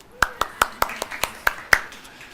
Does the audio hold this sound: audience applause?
yes